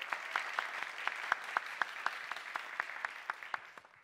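Sparse, distinct handclaps from a small audience at a science communication competition semi-final, heard fairly close in a quiet room, irregular and tapering off toward the end.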